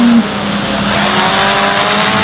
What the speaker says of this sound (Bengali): তোমাদের একটা নতুন কার দেখাচ্ছি, মাস্ট্যাং চালাবে তোমাদের ভাই।